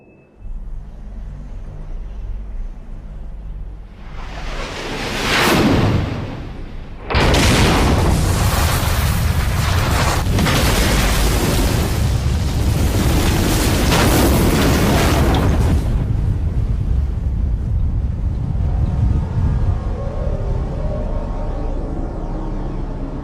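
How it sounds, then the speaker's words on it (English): A massive explosion in the Zone of the Enders video game: a rising rumble swells briefly, then a sudden loud blast launches a sustained roaring wall of noise that slowly fades into a low drone. "Ada will start up the explosion system automatically"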